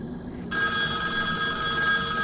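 A telephone rings in the horror video game Boogeyman, its bell cutting in abruptly after a brief quiet moment and then sounding loud and continuous with a steady, high metallic shimmer.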